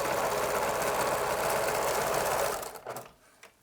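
A sewing machine runs in a steady fast stitching rhythm for about two and a half seconds while hemming the double-rolled edge of a fabric face mask, then stops, leaving a few faint clicks.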